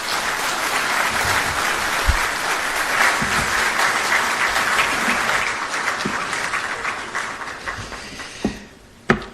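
A crowd gives a long, steady round of applause to Ghana's President at the swearing-in of a new Chief Justice. The dense clapping holds for most of the stretch, then thins into a few scattered final claps.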